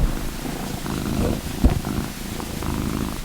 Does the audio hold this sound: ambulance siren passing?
no